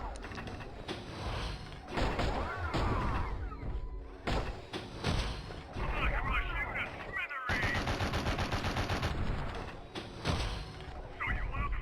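Gunfire in the Avatar video game, loud bursts of shots and mechanical thuds running through most of the clip with dense game effects and some speech-like sound mixed in.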